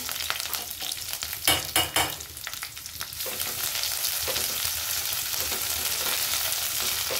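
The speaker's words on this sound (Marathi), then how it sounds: "थोडंसं लसण आपण परतून घेऊ।" Crushed garlic, cumin and curry leaves sautéing in hot oil give a steady, close sizzle, with a few loud spatters and stirring scrapes early on, then an even crackle.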